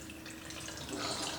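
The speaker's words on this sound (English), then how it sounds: "So we'll be able to pour our beautiful liquid into our jars." Strained ginger and turmeric liquid is poured from a fat separator's spout into jars, a soft steady trickle of liquid heard close and quiet.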